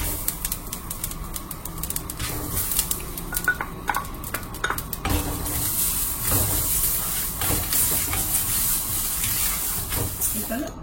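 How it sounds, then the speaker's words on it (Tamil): Ingredients dry-roasting in a kadai for pirandai kuzhambu, giving a close, continuous crackle and hiss with frequent sharp pops and stirring scrapes, a voice speaking intermittently over it. "இந்த மாதிரி சத்தம் கொஞ்சம் வர ஆரம்பிச்சோன்னா அதாவது வறுப்படுதுன்னு அர்த்தம்"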